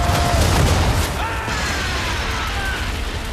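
Musket volley in Assassin's Creed 3 video game: a dense, loud crackling burst of massed gunfire at the start that decays into a roaring smoky wash, with no talk over it.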